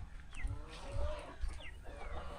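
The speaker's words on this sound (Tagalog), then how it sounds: "Ay, mga manok mo doon, mga manok." Chickens on a flooded farm cluck and call in short bursts close by, with the low rumble of moving water or wind running underneath.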